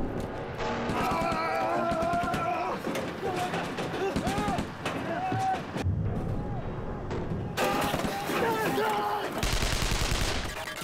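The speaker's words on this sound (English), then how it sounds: "The tanks hose each other with machine gun fire to wipe the enemy off." Machine gun fire between tanks in a Korean War battle at Kapyong: rapid bursts of gunfire rattle amid a dense war soundscape, loud and sustained with heavier bursts near the end, under a narrator's voice.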